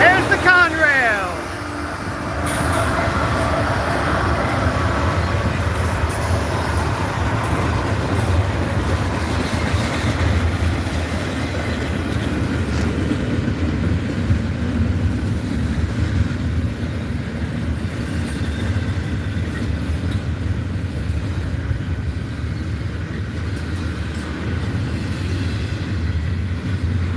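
A Conrail freight train rolls past the trackside close by, a steady loud rumble with rail clatter holding throughout; an excited voice cheers near the start.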